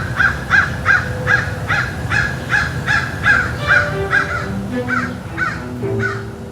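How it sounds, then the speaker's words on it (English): Crows give a run of repeated harsh caws, about a dozen in a steady rhythm at moderate distance, over a faint outdoor background with a low hum. "Some people complain about crow calls."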